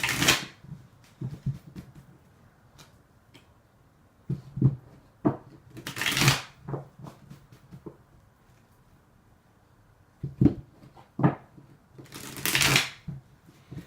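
Tarot cards being shuffled in several brisk bursts, crisp riffling close by, separated by quieter gaps with soft handling noises.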